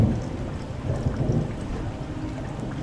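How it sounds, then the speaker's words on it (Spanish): Thunder rumbling through heavy rain in a city at night, a low continuous roll with dense rainfall steady throughout, fairly loud and close, no voices. "Afuera, en la ciudad, llueve con fuerza y la lechosa luz de los relámpagos se filtra por entre las persianas"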